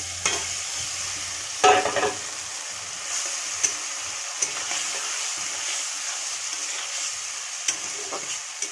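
Chicken sautéing with a chili spice paste in a pan, a steady hiss of frying with occasional spoon stirs and scrapes, close and moderately loud.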